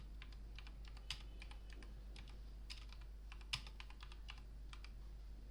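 Typing on a computer keyboard: quick, light clicks in irregular bursts with a few sharper keystrokes, faint and close over a steady low hum, no voice.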